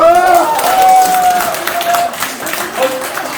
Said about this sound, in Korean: 찬성하는 사람은 큰 박수를 한번 쳐주십시오